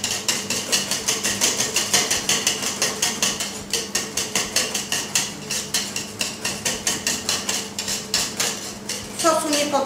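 Sauce seasoned with salt, pepper and lemon is stirred in a pan, a utensil scraping and tapping the pan in a fast, regular rhythm of close metallic strokes, ending with a brief clatter.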